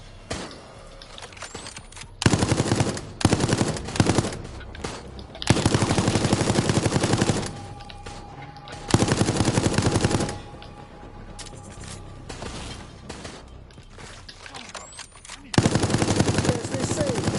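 Weapon fire from Resident Evil Resistance, with loud rapid bursts of automatic gunfire coming in several long volleys separated by quieter gaps of game ambience.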